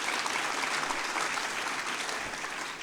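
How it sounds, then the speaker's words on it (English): Sustained applause from a dinner crowd at a 2022 political victory dinner, a dense, even patter of many hands clapping for the whole stretch with no voices over it. "that's worth clapping for"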